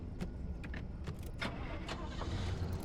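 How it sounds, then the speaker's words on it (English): A big truck rumbles past in the Pacific Drive video game, its engine a steady mid-loud drone with a few brief metallic rattles layered on top over a continuous low rumble. "Oh, that's a big truck."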